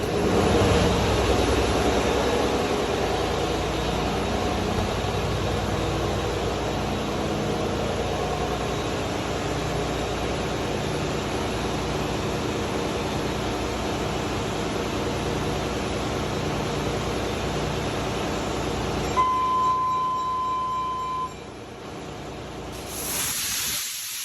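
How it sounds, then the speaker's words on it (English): Ship's main engine during air blowing, a steady loud rush of air with a deep mechanical rumble underneath, continuous throughout, briefly joined by a thin whistle before dropping off at the end. "Now, we are ready for testing or main engine and/or air blowing"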